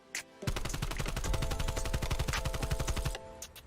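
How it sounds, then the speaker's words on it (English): Sustained full-auto fire from an AK-47U submachine gun fitted with attachments in Black Ops Cold War: a loud, close, steady stream of rapid shots for nearly three seconds, ending abruptly, with no talking. "So here's the AK-47U with attachments on it that you're going to use like when you're leveling it up."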